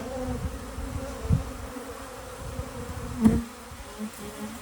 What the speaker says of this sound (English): Man, that's a lot of bees.